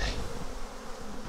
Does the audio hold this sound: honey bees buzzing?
yes